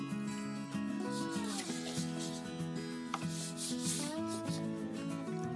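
Dry seasoning rub being worked by hand into a raw brisket, a steady soft rubbing and scraping over tonal background music.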